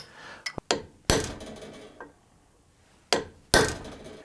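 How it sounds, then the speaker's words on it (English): Several sharp metallic taps strike at irregular intervals while fitting a Harrop E-Locker diff locker kit, some close together and some isolated, each ringing briefly before quieting, with no talking. "I'm just going to tap those in to hold them in place."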